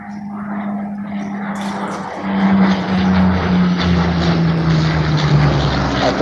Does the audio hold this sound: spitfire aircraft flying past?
yes